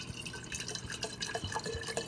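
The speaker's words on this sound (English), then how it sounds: "I take the wine, pour it right in here." Wine poured into a pot while making spaghetti sauce gives a steady run of soft liquid splashing and dripping at close range, with no talking.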